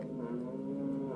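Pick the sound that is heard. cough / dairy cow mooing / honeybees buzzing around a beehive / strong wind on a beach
dairy cow mooing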